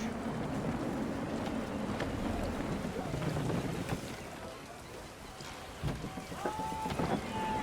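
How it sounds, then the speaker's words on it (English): Gusty wind rushes steadily around a sailing ship at sea in Assassin's Creed III, a broad noisy roar with small rises and dips. "Gusty winds can be difficult to manage."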